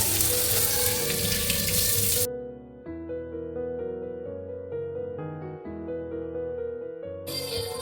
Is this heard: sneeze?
no